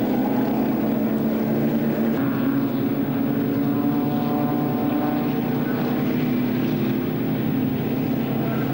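Vintage Aston Martin race cars run at Silverstone, and their engines make a sustained loud roar with a steady tone.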